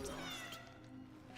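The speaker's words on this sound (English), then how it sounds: "I heard a kitty." A cat in the video game Cronos: The New Dawn gives a short, faint meow, drawn out and slightly plaintive, heard alone against a quiet game background.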